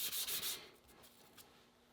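Oiled sandpaper rubs over a Damascus steel knife blade in quick, close back-and-forth strokes, louder for the first half-second and then settling into softer, steady sanding.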